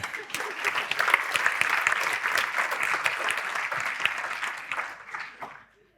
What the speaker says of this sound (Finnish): Se on aplodien paikka.